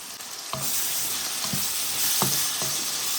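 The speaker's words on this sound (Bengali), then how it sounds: "এটাতে একটু ভাজি করব পেস্ট একটু ভাজি হয়ে গেছে" A spice paste with garlic fries in a pan with a loud, continuous sizzle, broken by several scraping stirs of a utensil against the pan.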